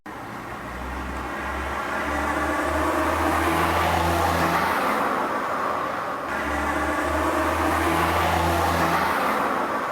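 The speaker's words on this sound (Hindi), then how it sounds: "ये इतनी सुबह सुबह सेठ धर्मपाल की गाड़ी इस तंग गली में कहां से आ रही है?" A car engine drives steadily into a narrow lane, a continuous loud motor hum that swells slightly as it nears, with no talk over it.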